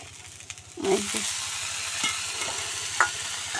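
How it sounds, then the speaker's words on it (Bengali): Salted taro leaves hit a hot pan and burst into a loud sizzle that keeps frying steadily, with a few stirring clicks and scrapes and no voices. "এইভাবে দিলে দেখা যায় কচুরটাকে একটু ভাজা কোয়ালিটিও হয়"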